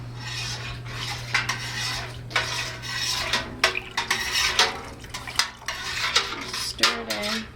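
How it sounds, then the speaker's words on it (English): A spoon scrapes and clinks against a metal pot while stirring cheese coloring into milk during cheesemaking, with irregular light taps and swishes over a steady low hum. "Stir it in."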